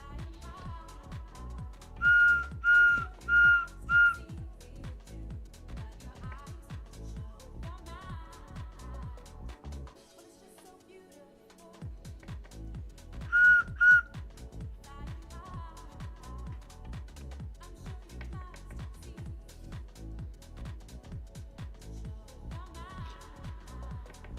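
Short bursts of high, steady whistled notes, a cluster of four early and two more later, sound over a continuous low rumbling background.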